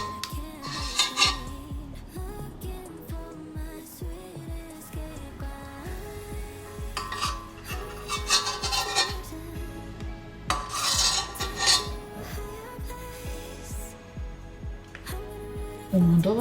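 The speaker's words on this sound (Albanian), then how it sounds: "Tani do mbledh këtë mazën që është këtu." A spoon skims cream from the top of a container of milk, giving repeated scraping and clinking strokes against the vessel over steady background music.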